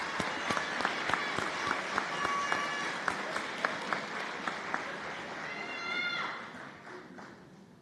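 Scattered applause at a white coat ceremony, with individual claps standing out over a steady murmur of a room, moderately far away, with voices in the background.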